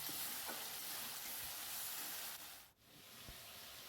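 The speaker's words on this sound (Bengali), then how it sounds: "একদম অল্প একটু তেলের মধ্যে একটু জিরে ফোড়ন দিলাম দিয়ে সবজিগুলো আমি সব দিয়ে দিলাম" Vegetables sizzle in a little oil tempered with cumin seeds, a soft, steady frying hiss with occasional stirring scrapes, heard close but quietly.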